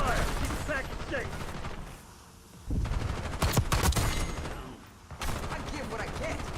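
Gunfire during a video game firefight: loud, dense bursts that come in waves with sharp individual cracks, mixed with game voice lines and battle noise.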